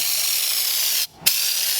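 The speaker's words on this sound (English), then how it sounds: "Eastwood undercoating gun and ready to start spraying under the car" An Eastwood undercoating spray gun coats the underside of a 1932 Ford, a loud, steady spray hiss running continuously, cut by a short pause and a sharp burst before the hissing resumes.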